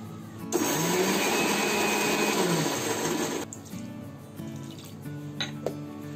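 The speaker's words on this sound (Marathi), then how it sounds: "आता हे मी वाटून घेणार. पाणी टाकून का? असं पाणी टाकून वाटून घेणार." A kitchen mixer grinder whirs loudly for about three seconds, grinding ginger, garlic, cumin and green chillies with water into a paste, then cuts off, leaving faint clinks and a quiet room.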